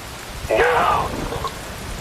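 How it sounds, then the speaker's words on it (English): Steady rain falls with a continuous soft hiss of drops, while a voice briefly speaks over it. "Wind blows, rain falls."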